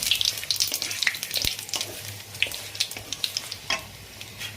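Radhuni spice frying in oil for shukto, with a light crackling sizzle and repeated scraping stirs and taps of a utensil against the pan, close and moderately quiet.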